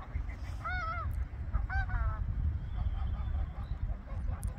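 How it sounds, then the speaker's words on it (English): Several geese honk at a distance in a couple of short bursts of nasal calls over a steady low rumble of background noise. "Thought I'd show the geese."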